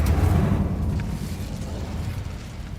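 The Incendio fire spell cast in the video game Hogwarts Legacy: a deep, rumbling whoosh of flame that erupts loudly, then holds as a steady roar.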